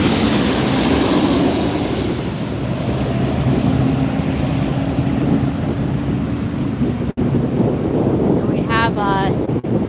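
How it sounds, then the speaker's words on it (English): A Boeing 737 that has just landed at LAX rolls and roars past overhead in a steady, loud wash of engine noise mixed with wind buffeting, with a voice speaking briefly near the end. "737 that just landed, just passed over us."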